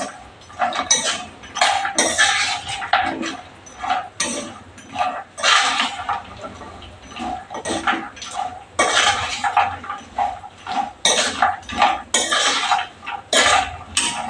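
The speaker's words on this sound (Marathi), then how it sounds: "आपण चांगला सुका मावा परतून घेणार आहोत." Dry khoa is stir-roasted in a pan for laddus, with repeated scraping and clinking of a metal spatula against the pan, close and uneven in bursts, with no talk.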